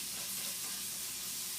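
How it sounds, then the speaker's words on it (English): Bacon sizzling in a pan while cooking okonomiyaki, a steady close hiss of frying fat with no talking. "I'm going to let the bacon cook"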